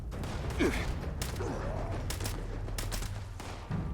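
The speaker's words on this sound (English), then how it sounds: "Let's just kind of throw a grenade over there." Combat in the video game Fallout 76, with a grenade thrown amid gunfire: a steady bed of game noise carries several sharp broadband bursts of shots and explosions scattered across the stretch, with no talk over it.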